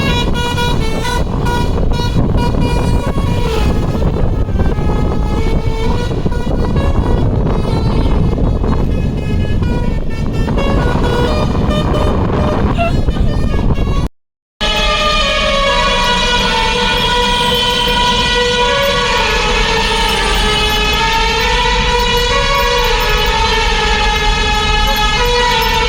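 Loud, continuous truck horn tones blare on a mountain road, a layered musical-style honk sustained for long stretches with a brief silent cut midway, dense and harsh throughout.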